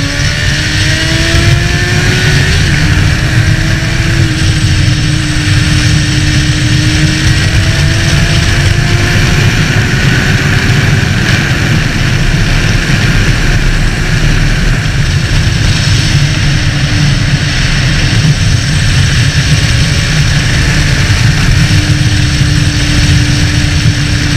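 A Honda CB650F motorcycle engine rises steadily in pitch through the gears while accelerating out of a curve, a continuous loud rumble with repeated upshifts and no voices.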